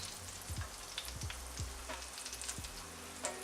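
Sausage frying in a pan for Louisiana jambalaya, a steady close sizzle with a few low clunks of stirring and turning, no voices.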